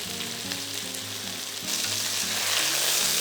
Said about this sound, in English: And when the oil is hot, add in your chicken and put them in one layer at the bottom of the pan.